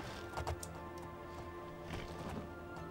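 Horse hooves clopping down a hill in Oblivion, a few faint irregular clip-clop steps under a low steady background hum.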